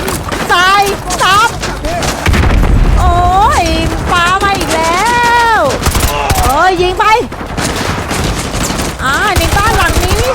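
Rapid bursts of AK-47 automatic gunfire crackle over Call of Duty: Modern Warfare 2 Remastered sound effects and music, with a voice talking excitedly in between.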